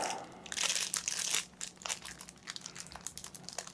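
Board game cards freed from their crinkly plastic wrap in a Maximum Apocalypse: Wasted Wilds gameplay bundle, with a loud burst of crumpling and tearing at first, then softer scattered crinkles and rustles close by.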